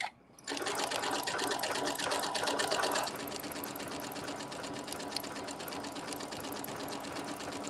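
A sewing machine runs a continuous test stitch with variegated thread, its fast, even mechanical whir close and steady throughout, slightly louder at first and then settling into a constant hum.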